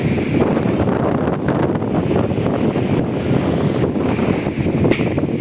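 A loud, steady roar of strong typhoon wind under Signal No. 4 in Infanta, Quezon, Philippines buffets the microphone without letup, a dense rushing noise with no voices.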